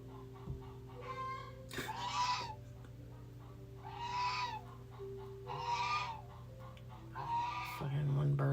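Repeated loud squawking from a hen that has just laid an egg comes in five or six bursts over a steady background hum, ending with a low sound near the close.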